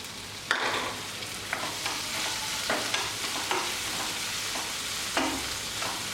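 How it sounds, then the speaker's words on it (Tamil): Onions and tomatoes frying in a pan for a capsicum and broccoli masala, a continuous sizzle with a steady run of spatula scrapes and taps at a regular pace, close up and without voices. "தக்காளி நல்லா மசிஞ்சு வர வரைக்கும் கிண்டி விட்ருங்க"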